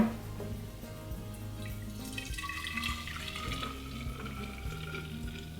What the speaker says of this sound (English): And then from the blender into my jar.